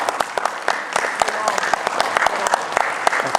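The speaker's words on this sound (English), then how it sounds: "give a big round of applause for Thailand" Audience clapping for the Thailand team at a creative stunts competition, a brisk patter of individual claps, moderately close, under a voice speaking.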